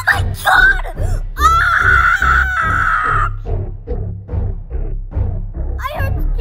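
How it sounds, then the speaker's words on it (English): Screaming in the Numberblocks Backdoors game, loud wailing, moaning cries that rise and fall in several bursts, followed by choppier shouted vocal sounds. "I heard screaming, I'm not going that way!"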